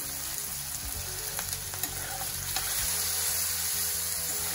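Vegetables for veg hakka noodles sauté over high heat in a pan, a steady loud sizzle with occasional stirring scrapes running throughout, no voices.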